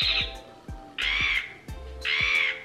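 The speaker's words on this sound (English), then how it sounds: "Listen to their high-pitched squawking noise." Three loud, harsh high-pitched squawks from seagulls in New Zealand, each a sharp call with a strained, nasal tone, spaced about a second apart.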